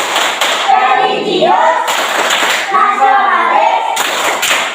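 Children in a primary school classroom clap rhythmically during a PPK clap chant. The claps come in quick bursts alongside group chanting and a teacher's voice.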